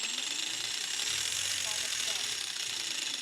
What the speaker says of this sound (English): we'll just give the rotor head a quick test